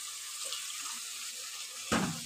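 Water poured into a pan of frying cumin and coriander powder for a Bengali cauliflower-potato dalna, a brief splash and sizzle near the end over a soft steady kitchen hiss.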